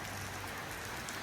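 Steady rain falls during a rainy motorcycle trip in Indonesia, a dense, even hiss of drops with no break and no voices across the short stretch.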